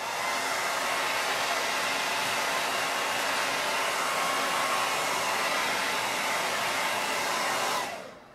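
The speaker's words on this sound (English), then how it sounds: "Maybe I should just hit it with the hairdryer real quick." A hair dryer blows steadily at close range, drying paint on a mason jar, a loud continuous broadband whoosh that cuts off abruptly near the end.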